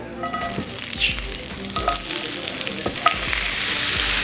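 Food sizzles and crackles loudly in a hot pan, with spattering pops and a steady frying hiss throughout.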